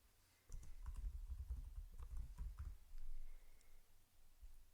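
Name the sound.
typing text on a computer keyboard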